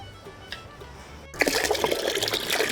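Homemade flower juice is poured into water for organic Holi colour, a quiet start followed by a sudden, close, gushing splash of liquid that keeps sloshing.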